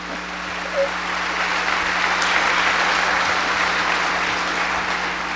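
Applause from an audience at a lecture for innovative venture entrepreneurs, a steady broadband wash of many hands clapping that holds level for several seconds, fairly close and with no voices over it.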